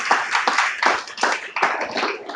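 A church congregation applauding at a Sunday service, dense and steady clapping in several swelling bursts, fairly loud and with no voices over it.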